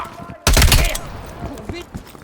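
A sudden loud burst of rapid gunfire erupts in Call of Duty Black Ops Cold War during a Vietnam War battle, then fades into a rumbling tail, with voices shouting around it.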